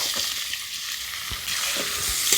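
Chopped onions frying in ghee-rich oil with whole garam masala for a Sundarbans crab curry, a steady close sizzle with a few soft stirring knocks, no voices.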